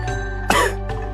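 A man coughs once in a short, harsh burst at close range, followed by a fainter second cough, over a steady low hum with no talking.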